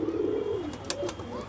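Domestic pigeons on a rooftop give a low, throaty rolling coo up close, followed by softer cooing and a few faint clicks and flutters, with no talk.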